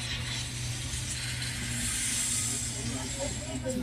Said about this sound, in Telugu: ఇది కాట్పాటి నుండి వస్తున్న మెమూ ట్రైన్ మనతో పాటు బయలుదేరింది